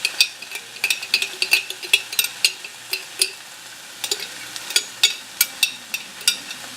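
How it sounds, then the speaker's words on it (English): Tomato sauce simmering in a pan for spaghetti, with a soft sizzling bed and frequent sharp clicks of a utensil stirring against the pan, close and steady with no talking. "We added the tomato sauce into the pan. We're going to let it simmer."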